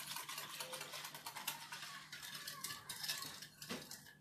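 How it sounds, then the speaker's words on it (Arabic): A utensil stirs milk cream into an Oreo biscuit dessert mixture in a bowl, producing continuous soft scraping and swishing with light clinks, close and steady, with no talking. "هنايا راح نزيدو هذه كريت الحليب ونحركو بالعقل باش يدوبو كاع المكونات هذه"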